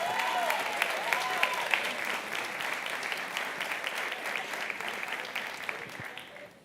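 Church congregation applauding during a worship celebration service, a steady sustained round of clapping filling the room, with a few voices cheering over it before it thins out near the end.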